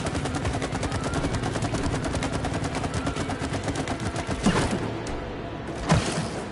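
Gunfire in the co-op game It Takes Two, a rapid continuous stream of shots that stays steady at moderate level, with a couple of heavier thuds near the end.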